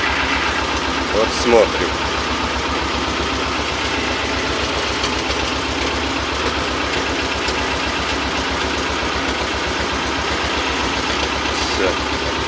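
A T-25 tractor engine fitted with a single-pump hydraulic power steering setup runs at a steady idle, a continuous close, mid-pitched chugging throughout, with someone briefly speaking over it near the start.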